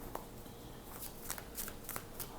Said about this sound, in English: One more good shuffle, and let's see what comes out.